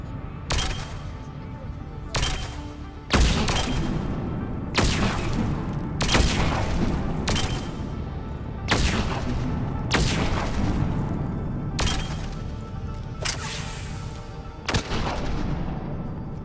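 Heavy gunfire from the player's weapon in Mass Effect 3: a string of loud, booming shots at irregular intervals, each one sharp and followed by a rumbling tail, over constant battle noise.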